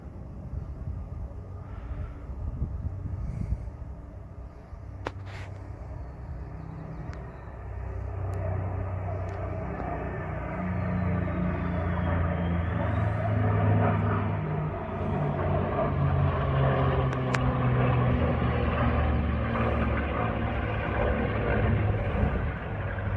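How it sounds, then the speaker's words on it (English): A jet and a propeller plane fly overhead during air show practice, a broad rumbling drone that swells gradually and holds steady for over twenty seconds, with no talking. "Looks like the jet caught up with the prop plane."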